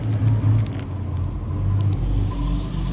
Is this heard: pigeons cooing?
no